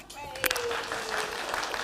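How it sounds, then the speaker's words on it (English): Brief applause from a church congregation at an Easter Sunday service, a short burst of clapping that swells and holds under a background of voices and murmur in the hall. "Give him a clap."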